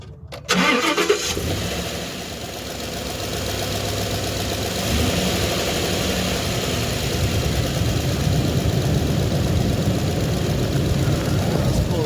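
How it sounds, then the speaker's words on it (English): A 2017 Ford F-250 pickup's gasoline engine cranks and catches, then settles into a steady, throaty idle that continues close by. "I'm gonna do a startup. So you have like an actual startup sound"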